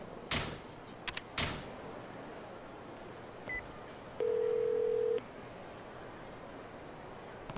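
A telephone is dialed in the video game Yakuza Kiwami 2: a few short clicks and handling noises, then a single steady tone lasting about a second against quiet background hiss.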